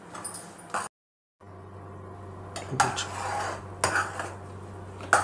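Spoon scraping and clinking against a metal pan while sweet poha laddu mixture with sugar and cardamom powder is stirred, a steady scraping with sharper clinks at intervals after a brief silence.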